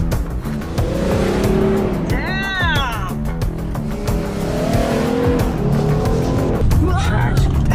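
A Jeep Gladiator truck's engine drones steadily with bursts of revving and tire noise as it climbs up and down a steep hill, while excited voices talk and exclaim over it.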